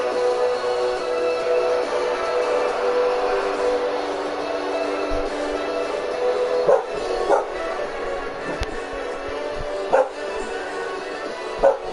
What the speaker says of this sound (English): Who the fuck let the dog in the arena? Must be one of our security dogs kind of going crazy just outside.